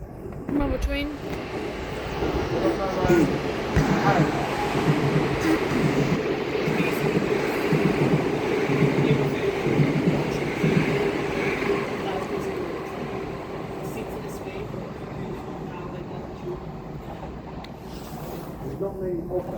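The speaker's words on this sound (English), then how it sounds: "Another train." A train rumbles past at New Cross station in London, a loud continuous roll of wheels and carriages that slowly fades, with people talking faintly nearby.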